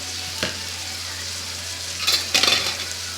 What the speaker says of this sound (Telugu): ఆనియన్స్ త్వరగా మగ్గిపోవాలంటే ఏం చేయాలంటే సాల్ట్ వేసుకుంటే త్వరగా మగ్గిపోతాయి అన్నమాట